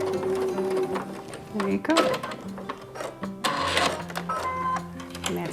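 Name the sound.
sewing machine stitching a fabric mask seam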